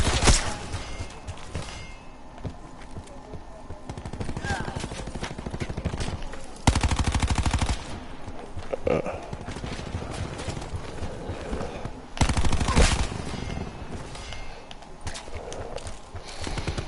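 Rapid automatic gunfire from a weapon in Call of Duty Black Ops 4, loud sustained bursts of shots stacked in a busy game mix with continuous background noise throughout.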